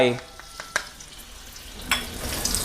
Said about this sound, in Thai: พอน้ำมันร้อนแล้วให้เราใส่รากผักชีโขกลงไป